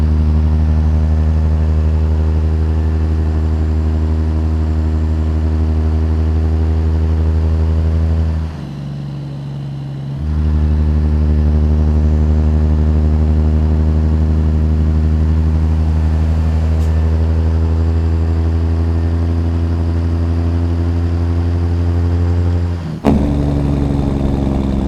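A CAT C15 truck engine from a Zeemods mod for a truck driving game idles steadily, heard from outside the cab: a loud, deep, continuous drone with a brief dip near the middle and a short click toward the end.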